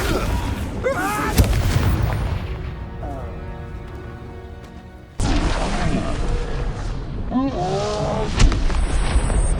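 A Flipendo spell fires in Hogwarts Legacy amid a loud, dense swirl of magical booms and crashes, with a sharp burst near the middle and continuous effects throughout.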